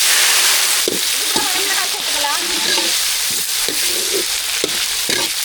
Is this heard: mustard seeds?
yes